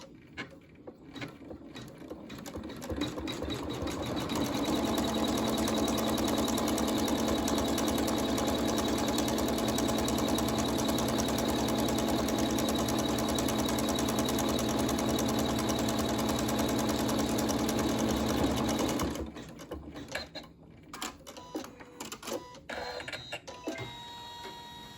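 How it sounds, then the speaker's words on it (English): Sewing machine stitching the seams and tacking the sides of a pincushion, a steady close mechanical whir that runs continuously for about fifteen seconds before stopping, with quieter handling noises after. "we'll go ahead and tack the rest of the sides and stitch the rest of the seams"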